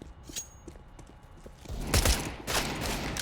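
Gunfire in a Counter-Strike tournament match, Desert Eagle pistol shots: after quiet clicks and footsteps, a loud cluster of sharp shots erupts, then a second burst follows half a second later.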